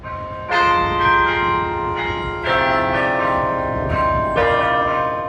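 The carillon bell tower at the University of Florida plays a tune: loud, ringing bell strikes come in clusters about every two seconds, each ringing on as the next begins.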